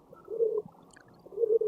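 Pigeons coo softly on a rooftop, two low rolling coos about a second apart, fairly close in a quiet setting.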